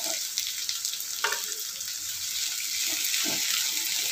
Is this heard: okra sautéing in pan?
yes